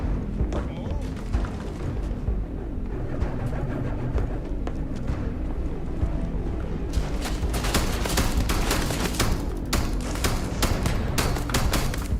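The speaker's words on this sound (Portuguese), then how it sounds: "Tô ouvindo a troca de tiro." Rapid bursts of gunfire trade back and forth in a Starfield battle, dense and continuous, with sharp volleys growing louder and more frequent in the second half over a steady rumbling game soundscape.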